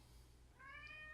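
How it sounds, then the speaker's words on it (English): A pet cat gives one short, clear meow close by in a quiet room, with no talking. "that's my cat"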